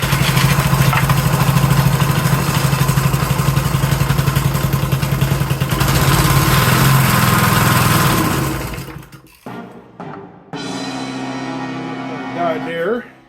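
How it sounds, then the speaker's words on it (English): A small-engine lawn edger with a carburetor fault runs loudly and raggedly up close, its buzzing drone sputtering out and dying, followed by quieter clattering and someone speaking. "This edger starts and runs for 20 seconds."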